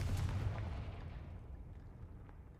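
A Confringo fire spell from the video game Hogwarts Legacy bursts in a heavy, rumbling explosive blast that decays over a couple of seconds, fairly quiet and alone.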